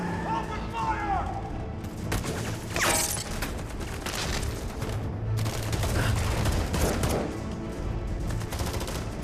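Sustained gunfire in a tense raid on a house, with dense overlapping shots and bursts running throughout, loud and continuous, with voices shouting faintly beneath.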